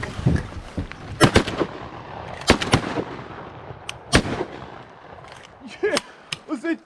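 Shotgun shots fired during a duck hunt in New Zealand, several sharp, loud blasts in irregular bursts, some close together, with people talking between the shots.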